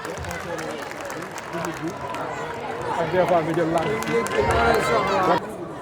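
Audience applause and crowd noise at a Grand Prix de la CEDEAO event in Ziguinchor, steady clapping and cheering that swells toward the end before cutting off, mixed with a loud murmuring crowd.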